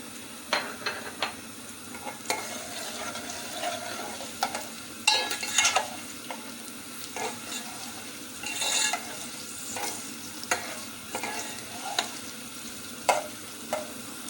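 Onions fry in oil in a pot on the stove for an eggplant dish, a quiet sizzle beneath repeated clinks and scrapes of a spoon stirring, close and with no talking.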